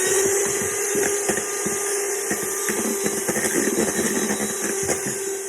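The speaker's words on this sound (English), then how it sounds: "Add a little bit of sugar and whisk it up" Whisks beat sugar into pavlova meringue with a steady, close whirring and repeated scraping against the bowl, continuous throughout with no talk.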